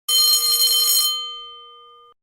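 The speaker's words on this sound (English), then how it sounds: "Tone 5, the mechanical bell for stage 3" An E2S Hootronic industrial alarm sounder plays its mechanical bell tone, the stage 3 alarm: a loud, bright, rapid ringing lasts about a second, then a single clear tone decays for another second before cutting off.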